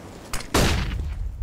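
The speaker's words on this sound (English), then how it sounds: "Throwing flashbang." A flashbang grenade is thrown and goes off in CS:GO: a brief click, then a sharp loud burst that fades into a sustained hissy ringing roar.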